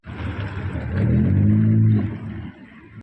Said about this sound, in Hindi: बस भी आ रही है